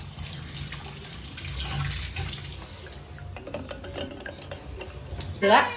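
Small eggs are washed in water at a kitchen sink, with running and sloshing water and light clinks and stirring, and a voice faintly in the background.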